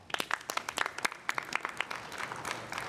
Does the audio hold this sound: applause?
yes